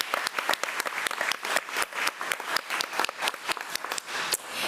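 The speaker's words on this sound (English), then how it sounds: "So let's give Altreju another round of applause." Applause for a student at a school district board meeting, moderately loud clapping from a modest room crowd with individual claps distinctly audible throughout.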